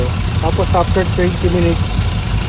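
A diesel engine idles with a steady low rumble throughout, close and constant, while someone talks over it.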